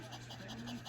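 A Pomeranian in labor pants steadily on a bed, close and soft, the quick breathy rhythm running the whole second under a low background hum.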